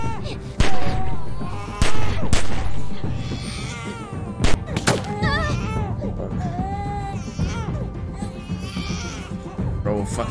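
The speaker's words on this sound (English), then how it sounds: "Fucking baby crying and shit" A baby cries in The Walking Dead Season 2 game, its wavering wails rising and falling amid sharp bursts of gunfire, with someone talking loudly over much of it.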